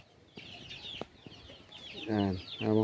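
Chickens cluck in short bursts, then louder, harmonic calls rise near the end, with faint chirping birds in the background.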